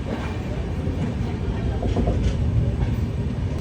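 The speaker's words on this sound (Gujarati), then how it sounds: "આપણે હવે વડોદરા રેલવે સ્ટેશનથી આગળ નીકળી ચૂક્યા છીએ." The Gandhidham–Bandra superfast special rolls on after leaving Vadodara, a steady low rumble from inside an S3 sleeper coach with faint rhythmic clatter, no voices.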